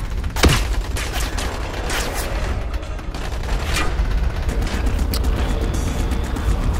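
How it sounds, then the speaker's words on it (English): Gunfire in the video game Dying Light: a sharp near shot followed by scattered bursts of shots over a continuous rumbling background, with no talk. "He's shooting at me."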